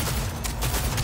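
A burst of rapid gunfire from the video game Cyberpunk 2077 fills a short stretch, dense and loud with overlapping shots and no pauses, with no voice over it.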